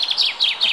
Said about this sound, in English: Can't see the little bird singing.